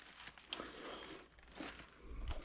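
A plastic grocery bag rustles and crinkles quietly in a kitchen while trout are being cleaned, soft irregular crackles and crumples over a faint background.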